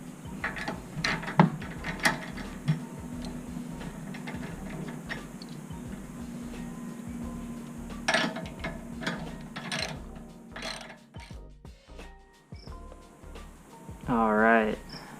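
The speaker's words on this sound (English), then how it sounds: "So once you ratchet it down," A locking device on a RackNRide motorcycle carrier is ratcheted down, making a series of close, steady mechanical ratchet clicks. Someone talks over parts of it, and a short squeaky burst comes near the end.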